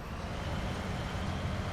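A truck's engine in a truck-driving video game drones steadily as a low rumble with a broad noisy wash above it, constant and fairly quiet, with no voices.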